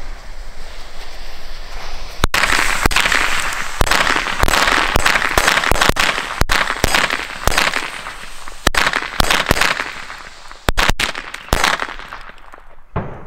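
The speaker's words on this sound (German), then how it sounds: "wir machen weiter mit der Knallkette" A cheap string of New Year's firecrackers goes off outdoors in one long, dense volley of sharp bangs and crackles. It stays loud and rapid for over ten seconds, with wind noise underneath.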